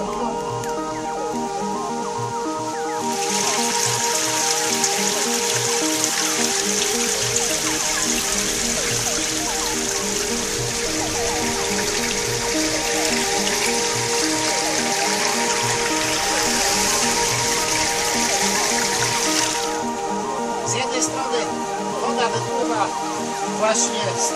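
A mountain stream in the Rudawy Janowickie range of Poland trickles and gurgles steadily, with brighter rushing water swelling in the middle, under a continuous bed of background sound.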